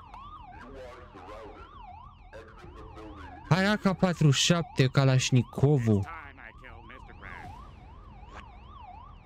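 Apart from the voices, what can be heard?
police siren in SpongeBob video game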